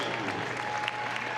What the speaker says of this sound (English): Big cheer for that one.